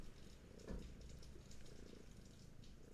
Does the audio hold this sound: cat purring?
yes